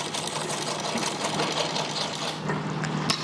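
A sewing machine runs steadily, stitching fabric in a lock stitch with a continuous fast mechanical whir, close and alone with no talking.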